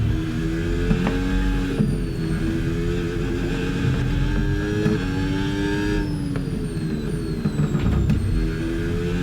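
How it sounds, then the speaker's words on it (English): A Formula 1 race car engine in a racing video game, a Cadillac at the Belgian circuit, whines at high revs, pitch rising and falling through gear changes, loud and steady with no talking over it. "I can hear the engine with the old IC struggling a bit"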